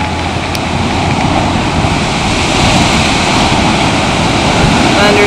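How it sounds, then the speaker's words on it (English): Steady, loud roar of surf at Sandy Beach Park filling the whole clip, a broad continuous wash of breaking waves with no voices. "The waves are outrageous."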